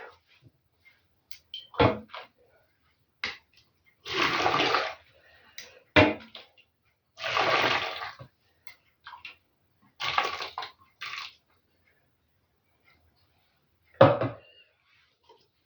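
Hot water is poured off jars of pickled cucumbers in several separate splashy bursts with pauses between, interrupted by sharp clinks and knocks of glass and lids.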